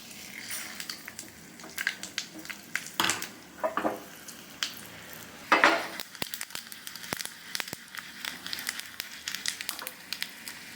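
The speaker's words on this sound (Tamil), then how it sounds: "எண்ணெய் காயுது கடுகு ஜீரகம் கொஞ்சம் பெருங்காயம் முழு உளுத்தம்பருப்பு" Mustard seeds, cumin, a pinch of asafoetida and whole urad dal sizzle in hot oil for brinjal chutney, making a faint, irregular crackle of scattered pops with a few louder bursts of spitting.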